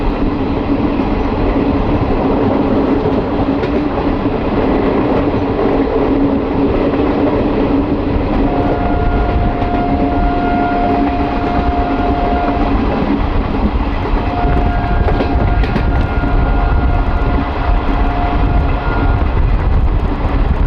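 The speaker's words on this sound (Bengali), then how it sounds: "আজিমগঞ্জ থেকে ছাড়ার পর ট্রেন বেশ ভালো স্পিডে ছুটে চলেছে" Malda–Howrah Intercity Express running at speed, a loud continuous roar of wheels and carriages heard from on board, with rumbling rail noise and a faint tonal whine partway through.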